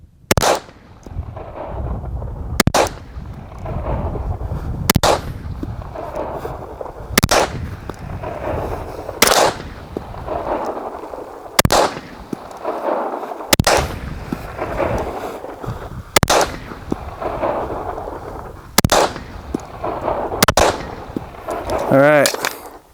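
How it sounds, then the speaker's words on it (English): A Springfield Echelon pistol fires at a B8 target from 20 yards: about eleven loud, sharp shots spaced slowly and evenly, each with a short echoing decay. "we're gonna shoot the B8 for accuracy"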